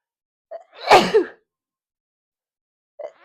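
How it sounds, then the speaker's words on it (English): A single loud, explosive sneeze, preceded by a short sharp intake of breath, then a brief faint sound after a pause of silence. "Oh, I'm going to sneeze."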